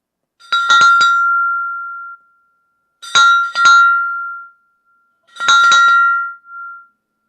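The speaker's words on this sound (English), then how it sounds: "Do a bell ring right now." A bell rings loudly and close in three separate bursts a few seconds apart, each a quick cluster of bright metallic strikes with a lingering ringing tail, and nothing else around it.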